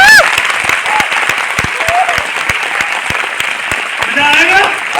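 Seminar audience breaks into steady applause, dense rapid clapping from many hands filling the room at a fairly even level, with a voice briefly rising over it near the end.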